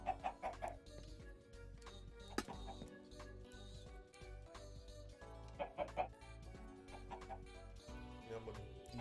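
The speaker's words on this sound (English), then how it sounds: "I'm gonna put chickens on one side" Chickens cluck in a Minecraft-style video game, soft intermittent clucks and ticks scattered across the clip, faint beneath a speaking voice and quiet background sounds.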